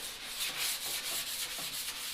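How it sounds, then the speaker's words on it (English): Block sanding on automotive body work, a steady back-and-forth rubbing with a rhythmic stroke pattern, close and quiet, no talk. "is the block sanding, which is pretty boring"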